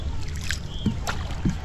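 Small wooden boat being rowed, with a few soft knocks and faint water sounds from the oars in a quiet village setting, brief and close.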